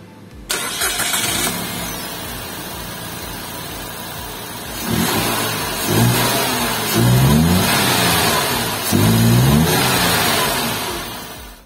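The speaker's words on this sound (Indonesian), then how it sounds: "kita pengen coba startup dulu, dengerin suara mesinnya" A Datsun Go facelift small car engine cranks and catches, then idles and revs in several rising bursts, loud and close, with no voices.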